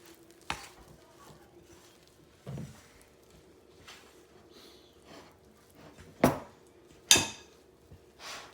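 A stiff, heavy-duty spoon stirs pepperoni roll dough in a bowl, giving sparse scraping and knocking sounds with a few sharper clacks against the bowl over quiet background.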